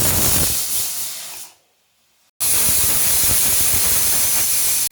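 Kitchen pressure cooker cooking tomato sambar releasing steam through its whistle, a loud continuous rushing hiss that cuts off briefly, then bursts back in full force.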